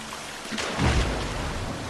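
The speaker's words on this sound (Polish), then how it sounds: "I tu jest woda chyba." Water trickles and splashes inside a cave in the survival game The Forest, a continuous soft rushing patter with a brief fuller swell in the middle, no speech.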